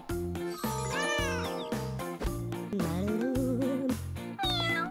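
A cat meows several times in drawn-out, rising and falling calls, loud and close, with a faint bell jingle between them.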